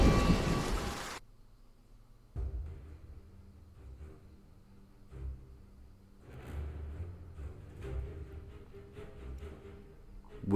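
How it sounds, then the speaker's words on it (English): Steady rain falls in the video game Ken Follett's The Pillars of the Earth, opening with a loud burst before settling into a wash of hissing rain over low, rolling rumbles that swell again toward the end, with no voices. "It rained relentlessly."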